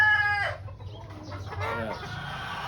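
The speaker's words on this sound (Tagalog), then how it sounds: "Ito naman po yung isang female na pure white kelso." A pure white Kelso hen clucks and crows up close, a couple of loud, harmonic calls with a short quiet gap between them.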